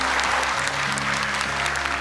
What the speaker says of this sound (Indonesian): boleh tepuk tangan untuk mereka